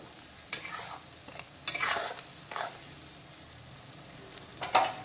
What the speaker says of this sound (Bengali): মশলার চারদিক থেকে তেল ছাড়া পর্যন্ত কষিয়ে ভাজা ভাজা করে নেব।